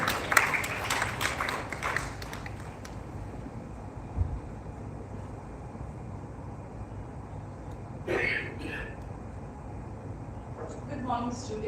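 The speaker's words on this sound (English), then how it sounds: "Let's have a huge round of applause to the guest of honor, CA Sunita Bhattacharya Madam." An audience at the inauguration ceremony of an oratory contest applauds the guest of honor: a brief burst of clapping at the start that dies away within a few seconds, leaving a quieter room.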